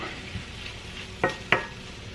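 Onions and peppers fry in a pot for red beans and rice, a soft steady sizzle close by, broken by two sharp utensil scrapes against the pot near the end.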